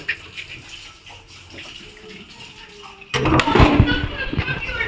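Water pours and splashes from a home water tank's overflow and tap, a soft trickle that bursts into a loud gushing rush partway through.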